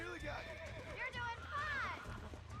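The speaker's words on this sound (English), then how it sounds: "you get on the horse and do this little mini game where you try to stay on the horse until it's tamed" A horse whinnies and neighs repeatedly while being tamed in the Red Dead Redemption video game, several rising and falling calls over a low rumbling game background, fairly quiet overall.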